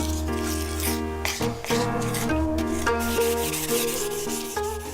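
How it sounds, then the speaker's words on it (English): Steady rubbing and rasping of sandpaper over lacquered wooden chopsticks between coatings, continuous and close, layered over background music. "Sanding the chopsticks between coatings helps to make the wood even smoother."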